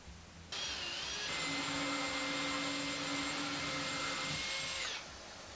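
A steady high-pitched whine of a power drill boring holes in a wall runs continuously for about four seconds, starting and stopping abruptly, with a faint background hum before and after.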